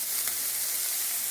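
Onions sautéing in a pan, a steady close sizzle and crackle of frying that runs without pause, with a faint stir or two.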